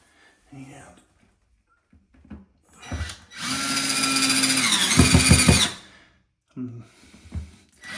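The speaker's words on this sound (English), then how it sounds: "I'm going to go ahead and use the drill" A power drill drives screws into a toilet flange, whirring loudly for about two and a half seconds with a pitch that shifts as the screw seats, between brief stretches of someone talking nearby.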